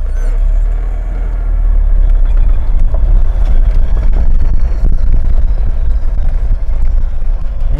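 A heavily modified VAZ 2104 pulling away, heard from inside the car as a low, loud engine rumble that swells as it starts moving, with a noisy cabin and no talk.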